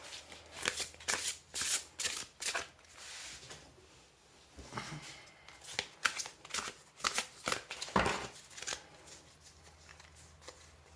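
Oracle cards for a tarot reading are shuffled by hand at close range, quiet riffling bursts in quick uneven runs with brief pauses between them.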